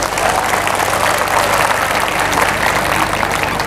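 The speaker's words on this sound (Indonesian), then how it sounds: "Tepuk tangan buat panitia dulu." A church congregation claps loudly for the organizing committee after a sermon, a close, sustained roar of many hands that stays dense and even from start to finish.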